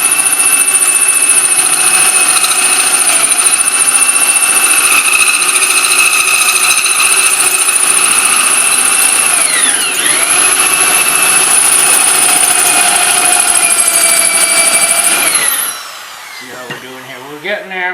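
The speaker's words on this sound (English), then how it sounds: "When I use my drill press," A drill press runs loudly and continuously with a steady whine and rich overtones, pitch wavering briefly midway, then spins down and stops near the end with a few light knocks.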